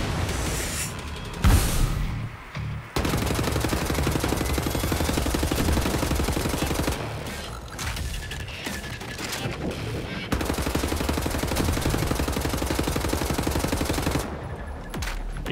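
Dual-wielded automatic gunfire in the shooter Wolfenstein: The New Order, long loud sustained bursts of rapid shots broken by a few brief pauses, with a voice briefly over the action.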